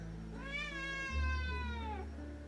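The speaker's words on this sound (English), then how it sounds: "we are greeted with the baby cat." A single drawn-out cat meow, close and clear, rising then falling over about a second and a half, with a low hum underneath.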